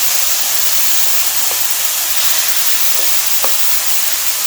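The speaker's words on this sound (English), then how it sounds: "1 tablespoon of olive oil, add our garlic" Garlic sizzles in olive oil in a pan, a dense constant frying hiss filling the space, close and loud, with a few faint stirring taps.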